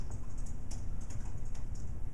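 Rapid, steady keystrokes on a computer keyboard as code is typed for a browser-based desktop programming demo, close and clear with no talk.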